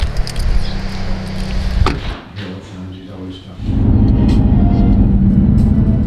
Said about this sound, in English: So we're driving up north on the 101.